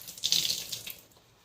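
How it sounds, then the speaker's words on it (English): Water splashes and drips as wet towels are wrung out by hand, a brief bright gush of trickling water that quickly tapers off into quiet, heard close up. "You can basically just wring these out and hang them over somewhere to dry."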